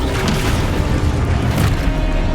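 A Confringo or Expulso explosion spell going off in Hogwarts Legacy, a loud, continuous low rumbling boom with bursts layered over it throughout.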